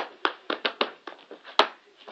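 Hands clap and tap a cup in the rhythmic cup song routine: a close, crisp series of about ten quick slaps and knocks in an uneven beat, with no voice.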